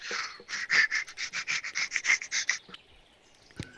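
A voice imitates a puppy panting: a quick, steady run of about fifteen breathy huffs, close and fairly loud, then a brief pause.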